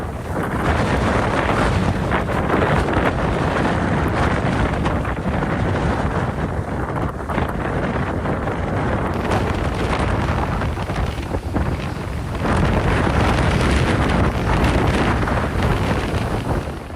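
Strong wind gusts on the coast during a flood, with 85 km/h winds roaring steadily into the microphone as heavy, continuous buffeting that swells and eases over about seventeen seconds, with no voices.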